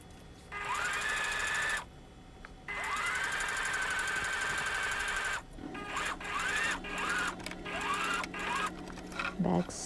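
A sewing machine stitches a fabric face mask in several bursts of rapid mechanical whirring, some long and some short, separated by pauses, close and fairly loud.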